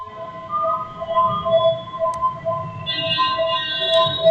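An ambulance siren wails steadily outside, its tones holding and shifting over a constant low rumble of traffic noise, loud and continuous throughout.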